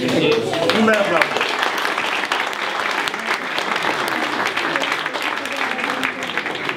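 A crowd at a community solidarity event in the Santa Rita district of Bari gives loud, sustained applause while the FC Bari 1908 youth team is introduced. A voice speaks over the start, then dense clapping continues at full strength to the end.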